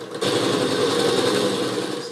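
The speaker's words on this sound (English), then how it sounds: "so I'm using a 7/8 of an inch to hollow this out" A 7/8 inch bit bores into a spinning wooden birdhouse ornament on a lathe, giving a steady, loud grinding whir that runs unbroken for about two seconds after a short start.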